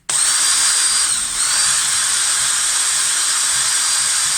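An electric drill spins a small homemade AC generator, a steady, loud high whine running the whole time with a brief dip in pitch and level just after the first second.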